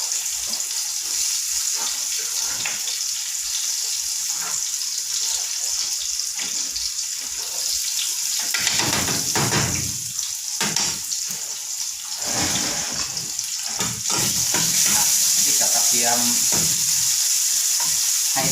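Pounded chili and garlic fry in a little oil in a pan for stir-fried mushrooms with holy basil, a loud, constant close sizzle with occasional stirring scrapes and no talk.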